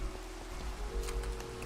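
Steady rain in Minecraft, a soft continuous patter with scattered drops close by, a low hum beneath and no talking.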